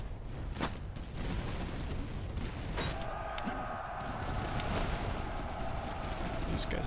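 Musket volleys in the video game Master of Command: a few sharp, booming shots crack out at intervals over a constant battlefield rumble, while someone talks throughout.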